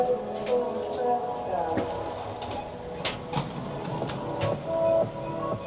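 A train pulling into Interlaken station in the Swiss Alps gives steady mechanical rumble and hum with scattered clanks and knocks, while faint voices murmur in the background.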